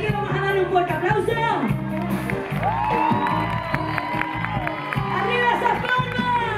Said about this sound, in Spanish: Así que vamos a darle un fuerte aplauso.